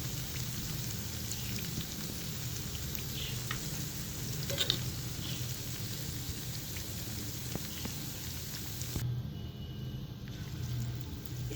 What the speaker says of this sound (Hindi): इस तरह हम सारे पकोड़ों का मेज़ा कुकिंग ऑयल में डाल के जैसे हमने पहले बनाए हैं वैसे पकोड़े बना लेंगे।